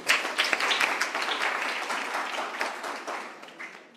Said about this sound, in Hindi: आप अपने लिए एक बार जोरदार तालियां बजाएं।